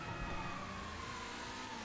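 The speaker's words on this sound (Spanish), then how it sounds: "Intento mantener las sirenas cerca" Police sirens wail continuously in the GTA V video game, a steady, moderately distant sweeping tone over dense traffic and engine noise.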